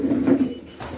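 Pigeons in a loft give a short, low, throaty coo close by, followed by a moment of quiet and faint stirring.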